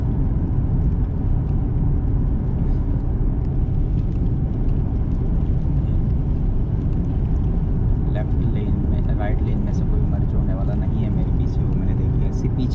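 Car cruising at about 70 km/h on a ring road in Saskatchewan during a winter storm, a steady loud low road and engine rumble filling the whole stretch while someone talks over it.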